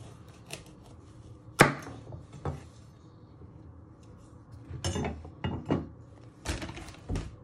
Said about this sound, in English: Next up, we're going to prep the carrots. So first you chop them your ends off.